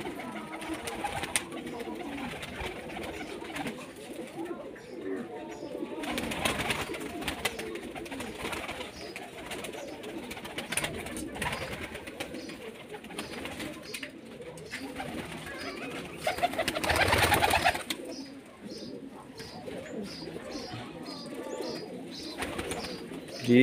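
Teddy breed pigeons coo softly and repeatedly through a continuous, busy background, with occasional rustles and a brief louder burst partway through.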